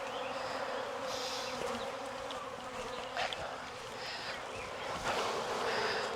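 An open hive of honey bees hums with a thick, steady buzz, close and loud, with individual bees swelling past now and then.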